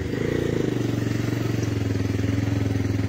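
A motorcycle engine runs with a steady, throbbing low chug, close and fairly loud, holding an even idle-like pulse without clear acceleration.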